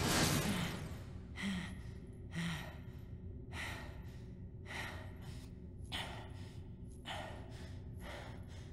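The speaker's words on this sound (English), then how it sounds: "Okay, we can stop with the breathing now." Repeated heavy breaths and gasps from a character in the video game Kingdom Hearts II, coming in rhythmic bursts roughly every second, close and fairly soft, with a louder rushing breath at the start.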